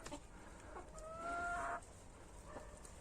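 A rooster's brief crow rises faintly over a quiet winter henhouse background, with soft clucking and rustling around it.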